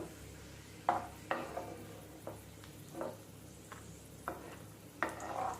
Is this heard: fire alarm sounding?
no